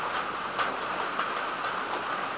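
Rain falls in a steady, soft patter with faint occasional ticks, heard alone at moderate distance, even and continuous.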